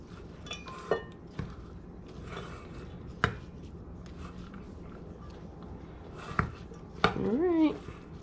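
Papaya salad with garlic is tossed and mixed in a container, giving sporadic close clacks, knocks and rustling at a moderate level, with a faint voice in the background.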